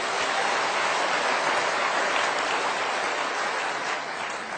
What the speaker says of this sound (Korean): 감사하다고 박수 한번 해요